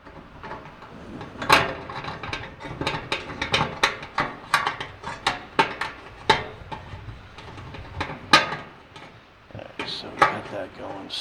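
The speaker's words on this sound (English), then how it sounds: "gently pull on this as I'm screwing everything in" A screwdriver drives screws while a Charbroil Performance 4 burner gas grill is assembled, giving a series of sharp, irregular metallic clicks and ratcheting taps, close and moderately loud, spread across several seconds with brief pauses.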